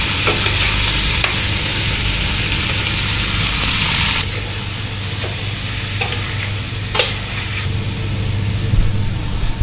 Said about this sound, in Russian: и обжариваю до золотистой корочки.